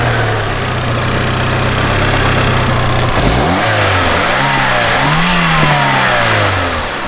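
A Fiat Seicento engine, just flushed with toilet-cleaning chemicals, turns over, catches and revs up and down several times, loud and close, with a steady idle beforehand.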